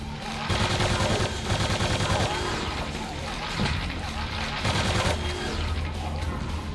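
Turrets in a video game fire as a dense, continuous rattle of rapid shots that runs for several seconds, sitting under a speaking voice.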